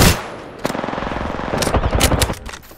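Rapid automatic gunfire from an Apex Legends firefight, a steady burst of close, loud shots running through most of the moment, with sharper cracks layered on top toward the end.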